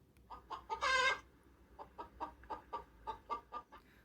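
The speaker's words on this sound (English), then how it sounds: "Hen." A hen clucks close by: a loud squawk near the start, then a quick, fairly even run of short clucks over the next few seconds in a quiet setting.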